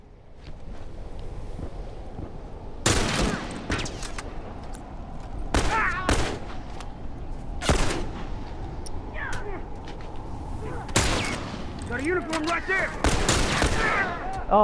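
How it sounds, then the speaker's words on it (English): Gunshots in The Last of Us Remastered crack out singly and in pairs, about eight in all, over a steady ambient bed, with faint voice-like sounds between them. "I missed two fucking shots"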